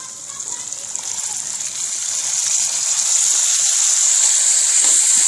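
Onions hit hot oil while cooking white lobia, giving a bright, steady sizzle that grows louder and fuller over a few seconds and then holds, with no talking over it.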